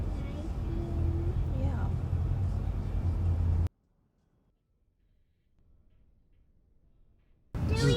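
Steady low road rumble inside a moving car with someone talking over it; the sound cuts out to near silence partway through and then returns.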